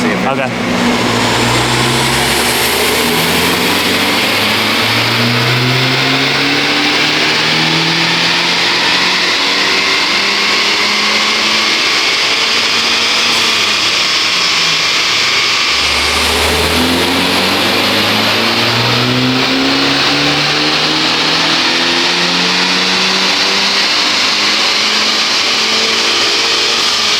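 A Honda Civic Type R FL5 screams through dyno pulls, its engine rising sharply in pitch twice in loud sweeping runs with a short drop between them, close and dominant over faint voices.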